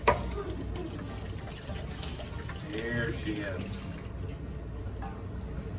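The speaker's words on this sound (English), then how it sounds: "And you want to just get a good drizzle going all over that." Soup and water pour and trickle steadily over a chicken casserole in a dish at close range, with a brief spoken remark over the sound.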